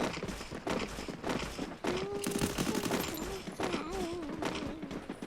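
Bursts of rapid gunfire from a Free Fire battle royale match crackle through the clip, dense and repeated volleys with a tonal in-game sound threading beneath.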